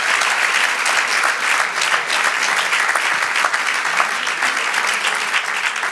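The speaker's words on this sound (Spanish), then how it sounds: "Dale aplauso al Señor." Steady, loud applause from a church congregation fills the whole stretch, dense and continuous clapping with no voices standing out.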